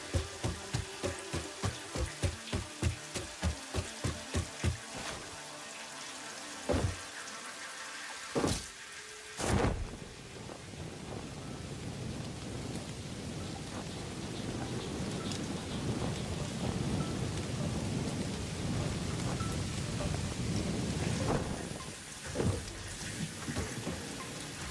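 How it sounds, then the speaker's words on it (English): Heavy rain pours down steadily through a video game world, with sharp loud thunder cracks and booms early on before settling into a dense, continuous downpour. "And it's raining really hard."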